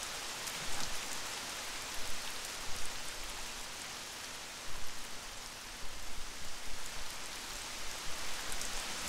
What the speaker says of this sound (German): Siehst du? Es regnet.